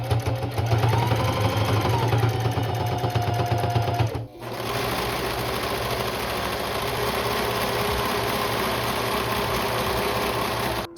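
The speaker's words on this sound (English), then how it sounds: "you're gonna see me serge the outside of the seam" A serger overlocks the outside edge of a seam on handmade baggy sweatpants, a loud, fast, continuous mechanical whir up close. It pauses briefly midway, then runs steadily again.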